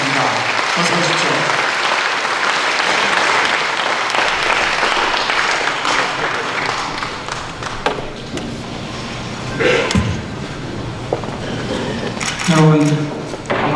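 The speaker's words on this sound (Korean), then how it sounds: "박수로 환영해주시면 고맙겠습니다." Audience applause welcoming a speaker at a forum held in a church, with loud, dense clapping through most of the span that thins out toward the end, where a voice begins speaking.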